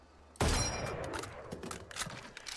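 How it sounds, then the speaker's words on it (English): Guardian rifle in Valorant firing its last round, a sharp close gunshot followed by a high metallic ping ringing out, then scattered faint clicks and handling noises. "if you actually run out of ammo, it pings just like the M1 Grand"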